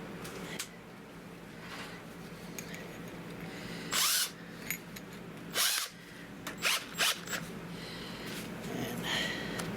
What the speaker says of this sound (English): let's go ahead and start my first drill with that